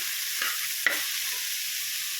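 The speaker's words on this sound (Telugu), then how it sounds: "సన్నగా తరిగి పెట్టుకున్న ఉల్లిపాయ ముక్కలు కూడా ఇందులో వేసేస్తాం వేసేసి ఒకసారి కలిపేసి ఒక ఫైవ్ మినిట్స్ ఇలాగా ఆయిల్లో మగ్గనివ్వాలి" Chopped onions and green chillies frying in oil in a pan with a steady soft sizzle, and a single spoon scrape of stirring partway through.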